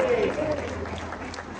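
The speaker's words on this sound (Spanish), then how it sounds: "Denle un aplauso al Señor." A voice trails off as a church congregation breaks into applause, a diffuse wash of clapping that fills the short moment.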